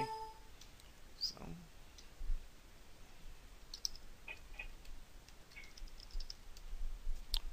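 Someone types on a computer keyboard while entering data into tax software, giving faint, sparse clicks and keystrokes against a quiet room hiss, with a brief soft voice early on.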